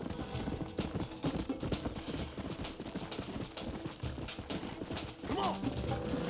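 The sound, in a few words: horses clip-clopping, Red Dead Redemption video game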